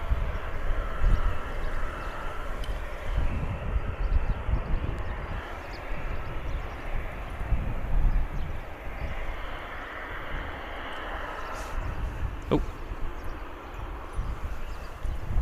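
Steady roar of an Airbus A320 jet climbing away from Bristol Airport, a broad rumbling engine drone held at moderate distance throughout, with faint background hiss and no talk.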